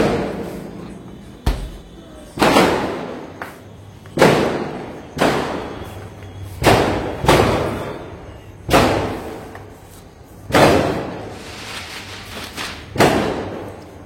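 Firecrackers burst outside in a series of about ten sharp, loud booms, spaced a second or two apart, each trailing off in a short decay.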